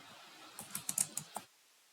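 Close, crisp keystrokes on a computer keyboard, about six quick clicks in a short burst with brief gaps, then a fade into quiet room tone.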